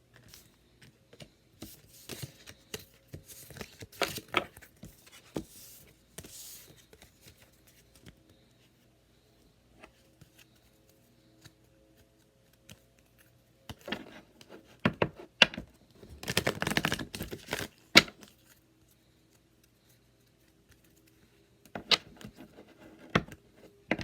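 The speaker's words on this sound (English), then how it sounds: "let's pull some oracle cards" Oracle cards being shuffled and pulled from the deck, heard as soft, close bursts of papery patter and card slaps, broken by quiet gaps, with a longer flurry of shuffling near the middle and no talking.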